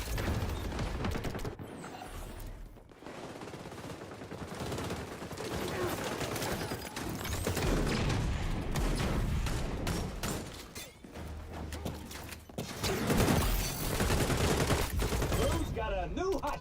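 Gunfire from a player's gun in the XDefiant shooter game comes in rapid automatic bursts, loud and close, broken by short pauses across the stretch, with someone talking at times between the bursts.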